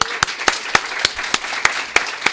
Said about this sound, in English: So can we get a round of applause for Ben?